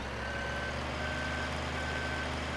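A JCB telehandler in Farming Simulator 17 gives off steady, evenly spaced reversing beeps over a constant engine drone. The beeps are loud and close, with no talking.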